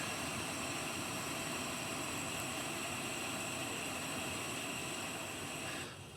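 A steady, loud roaring hiss of an Etek City butane stove burner on its highest setting, continuous and close, easing off slightly at the very end.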